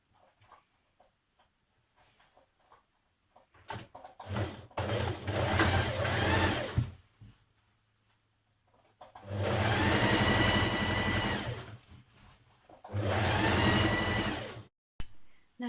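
A domestic sewing machine runs ease stitching around the top of a coat sleeve in three sustained bursts of steady, fairly loud stitching, separated by quiet gaps with faint handling clicks.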